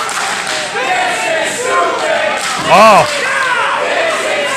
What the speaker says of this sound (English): The crowd clearly unhappy